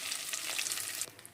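Prawns sizzle in hot oil in a kadai, a crackling hiss with quick bursts of spatter that drop off toward the end, alone without voices.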